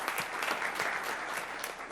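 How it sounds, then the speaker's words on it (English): Steady round of clapping from an audience at a school board meeting honouring student art winners, a moderate, even patter of many hands with no voices over it, lasting a couple of seconds. "Let's give them a round of applause"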